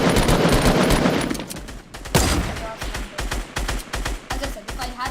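Rapid automatic gunfire in the Fortnite video game crackles loudly and continuously, then breaks into shorter rhythmic bursts after a sharp crack, with a voice talking faintly underneath.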